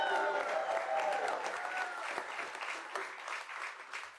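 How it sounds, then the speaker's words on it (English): Loud, sustained applause from an audience at a city awards celebration, steady clapping filling the room for several seconds without a break. "let's give a warm and loud applause to our Chief Diversity Business Officer, Michael Garner."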